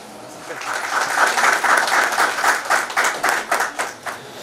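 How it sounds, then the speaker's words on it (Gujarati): An audience at a teachers' capacity-building programme claps steadily for several seconds, the applause swelling quickly and then thinning into scattered claps toward the end. "ખૂબ તાળીઓથી આપણે સ્વાગત કરીએ છીએ"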